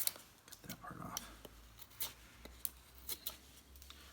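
A knife whittling a wooden wand makes quiet, short scraping cuts, a string of soft irregular strokes close by, with light background noise.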